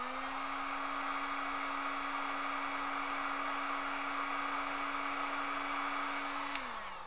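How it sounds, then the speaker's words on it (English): A heat gun blows hot air onto an HTU21D temperature sensor wired to an Arduino, making a steady, loud whooshing drone with a fixed whine. It runs evenly for about six seconds, then cuts off and winds down. "And here is my heat gun. I apply some heat."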